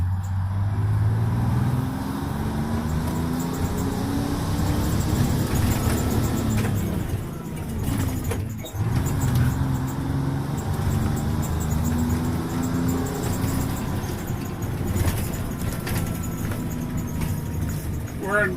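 An old bus engine drones steadily while driving, with gear changes and shifting engine tones throughout, under someone talking at intervals.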